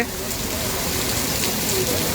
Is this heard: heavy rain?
yes